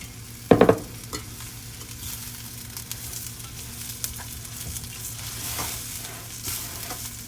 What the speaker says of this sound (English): This is really the only time you can stir rice, when you're browning it.